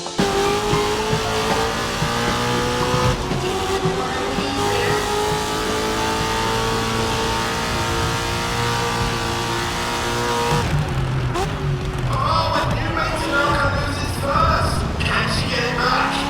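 Race car engines in the Grid Legends racing game rev loudly and continuously, with a harsh whine rising and falling through gear changes and a brief drop in intensity near the middle before building again.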